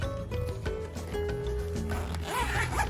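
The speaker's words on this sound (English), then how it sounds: "Smooth zipper" A bag's zipper is pulled open with a quick, close scratchy rasp, accompanied by light handling noises.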